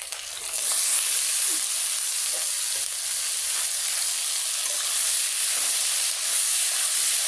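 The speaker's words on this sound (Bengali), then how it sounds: "এদিকে যে আমি ফুল ফল ভাজি করছি" Vegetables fry in a pan with a steady, loud hissing sizzle that runs throughout with little change, with only faint occasional stirring touches.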